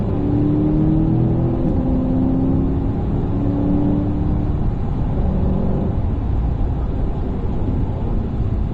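A car accelerating during a driving lesson, heard from inside as a loud, steady engine drone rising in pitch, with no talking.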